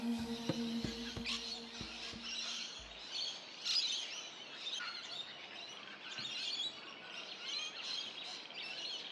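Birds in the Warriewood wetland on a cool autumn morning, with scattered high chirps and tweets over a quiet outdoor background. A few faint knocking sounds come early on.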